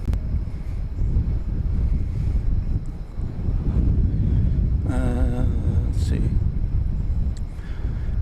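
A passenger plane comes in to land at DFW Airport, a low, steady roar heard from a distance through heavy wind buffeting the microphone. A person speaks briefly over it.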